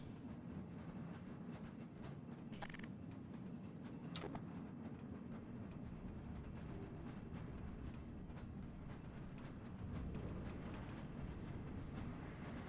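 A train rolls along rails in the video game Black Mesa, giving a steady low rumble throughout with a few faint clanks, no talking.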